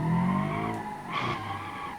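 Tires skid and squeal as a car with rear-wheel steering drifts in the BeamNG.drive game, featuring a first-generation Ibishu Pessima; a loud, steady screech with engine tone runs through the whole two seconds.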